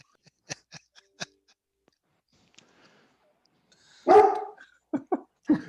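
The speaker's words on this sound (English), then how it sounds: "as my dog barks in the background" A pet dog barks several times in a home, sharp separate barks near the end after a quieter stretch of faint yips and clicks.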